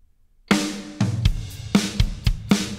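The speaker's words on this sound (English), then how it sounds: "So if we solo the drums and listen to them." A drum kit plays alone, with solid kick and snare hits landing in a loose rhythm and cymbal wash ringing between them.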